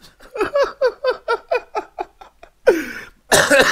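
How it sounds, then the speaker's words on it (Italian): A rapid run of about a dozen short, rhythmic coughs, followed by two heavier, louder coughs close to the listener. "scusate la tosse"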